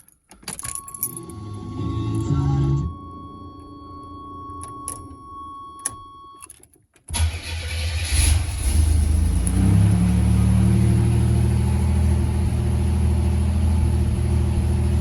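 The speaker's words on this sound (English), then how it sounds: "Everybody loves a cold start video." Cold start of a 1978-1988 G-Body car: keys jangle and the fuel pump hums with a chime, then the engine cranks and catches into a loud steady idle, heard up close.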